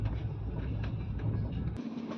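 A Machilipatnam-Bidar Super Fast Express rolls slowly while another train passes alongside, a loud, steady rumble of wheels on rails with faint rhythmic clacks, then a brief sharp click near the end.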